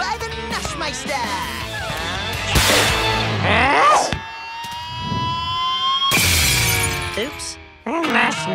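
Glass shatters loudly in bursts amid a busy mix of whistling tones and voices, with a second crash later on.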